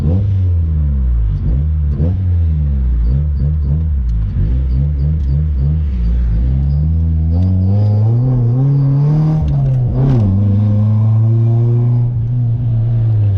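A 1991 Honda Civic sedan fitted with new coilovers drives along, its engine humming and rising steadily as it revs and accelerates, close and loud throughout, with no talk over it.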